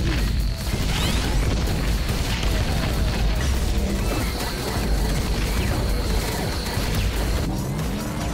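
Bridge destroyed in a frog-ship survival video game, a dense chaotic burst of crashing, smashing and popping explosion effects layered over game music, sustained and loud throughout.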